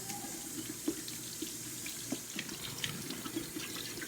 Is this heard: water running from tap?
yes